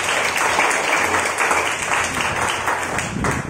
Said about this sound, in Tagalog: Pwede ba isang malakas pa na palakpak sa ating Lord?